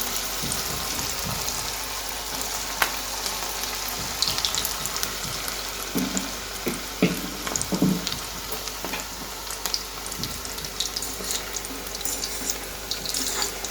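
Medium-sized Indo-Chinese vegetable pakoras, mixed with sauce, deep fry in oil over a low flame, giving a continuous close sizzle and bubbling hiss with scattered crackles and soft stirring clinks.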